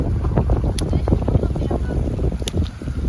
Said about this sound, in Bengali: বাতাস আছে প্রচুর বাতাস দেখেন